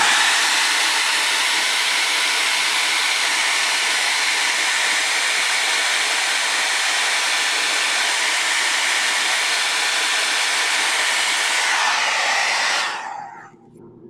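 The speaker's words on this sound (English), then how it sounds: "I could hit that a little bit with the hairdryer." Hairdryer blowing on a watercolor painting, a loud steady broadband whoosh that holds constant for about thirteen seconds before cutting off abruptly.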